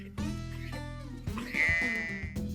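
A sheep bleats twice close by, wavering nasal calls with a rising second cry, alone against a quiet background.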